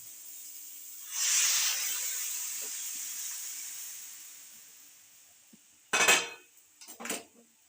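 Water is poured into a hot pan of frying eggplant while tilapia fish is being cooked in a home kitchen, a loud sizzling hiss that slowly fades, followed by a few clanks of utensils against the pan.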